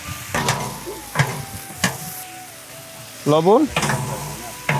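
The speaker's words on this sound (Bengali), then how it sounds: "মশলার সাথে টমেটোটা ভেজে নিলাম" Chopped tomato fries with spices and salt in a pan, a steady sizzle broken by sharp stirring scrapes, with a voice briefly speaking over it.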